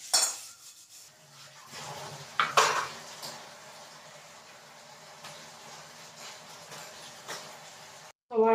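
Dishes being washed by hand in a home kitchen: pots, pans and cutlery clink and clatter up close, with scrubbing and running handling noises throughout.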